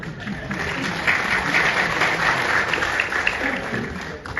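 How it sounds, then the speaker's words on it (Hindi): Audience at a Hindi stand-up comedy show claps steadily, a dense, sustained round of applause from the crowd filling the room. "जितने लोगों ने ताली बजाई"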